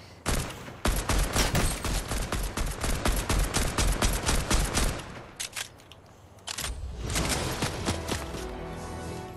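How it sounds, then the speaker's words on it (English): Rapid gunfire in the battle royale game Fortnite, dense bursts of close, loud shots in quick succession, a short pause, then another sustained burst. "there's somebody shooting at me"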